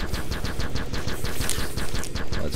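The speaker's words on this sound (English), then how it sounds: "Let's shoot everything that's here." Rapid automatic gunfire in the side-scrolling space game Capsized: a loud, steady burst of repeated shots with regular sharp cracks and no voices over it.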